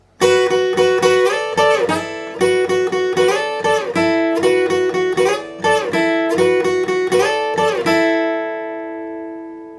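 An electric guitar riff played at full speed, a quick run of picked notes repeated four times in a steady loop, then a final note left ringing out.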